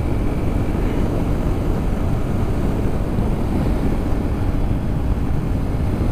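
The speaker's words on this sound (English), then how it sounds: "this bike's just a lot louder than the scooter" A Yamaha XT225 motorcycle rides along steadily, its engine a constant low drone smeared with heavy wind rush across the microphone, loud and unbroken throughout.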